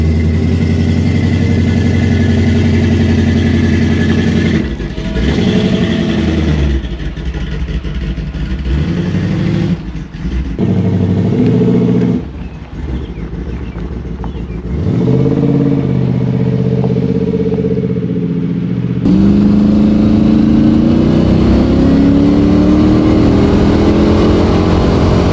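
A car engine with a freshly rebuilt TH400 automatic transmission revs and idles on a drive, loud and close, rising and dropping in repeated throttle blips with steady droning between pulls.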